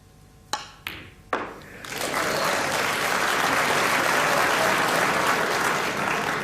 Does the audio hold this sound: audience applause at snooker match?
yes